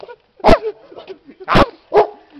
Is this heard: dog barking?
yes